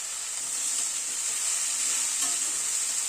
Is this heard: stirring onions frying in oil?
yes